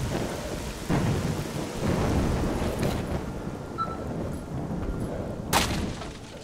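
A thrown grenade detonates in STALKER: Shadow of Chernobyl, giving a deep rumbling blast over a dense, rain-like wash of background noise, with a sharper crack near the end.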